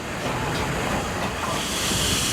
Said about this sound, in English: watch the departure of the high-speed Great Western commemorative train to Plymouth